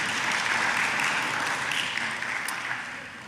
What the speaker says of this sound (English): I'd like to start by just giving a round of applause for our fantastic speakers this morning.